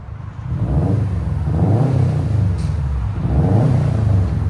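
Close, loud revving from a 2015 Subaru WRX STI 2.5L turbo with straight pipes and a single exit, the deep exhaust rumble rising in a few pulses and holding steady between them.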